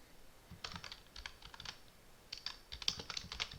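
Computer keyboard keys clatter in two short, quick bursts of typing into a spreadsheet, close and fairly quiet, with a brief pause between them.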